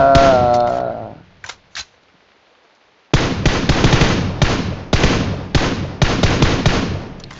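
Rapid bursts of video game gunfire crack out repeatedly, loud and close, following a brief lull after a tonal game sound, with several separate volleys spaced through the stretch.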